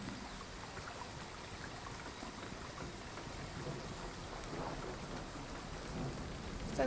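Rain falls steadily from a rain cloud in the video game Endzone, a soft, even patter with a low rumbling undertone of thunder, faint and continuous, with no talking.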